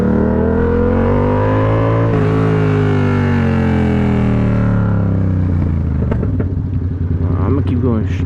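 A motorcycle engine revs hard and loud while the rider pops a wheelie, pitch sweeping up and down in continuous roaring harmonics before settling lower and choppier near the end.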